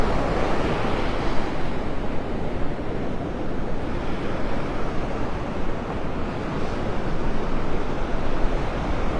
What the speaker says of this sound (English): expect a lot of wind. There is a high surf advisory in effect